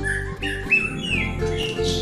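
Young wild-caught white-rumped shama (murai batu) calling up close, a loud run of squawks and whistled notes broken by short pauses.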